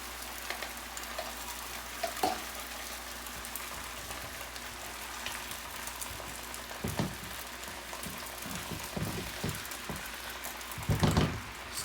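An egg fries in oil in a pan for chicken fried rice, giving a steady low crackle and spatter with a few louder pops near the end, close by and without talk.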